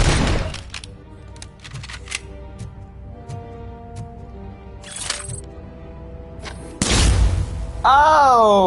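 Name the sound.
flashbang grenade going off in video game RoboCop: Rogue City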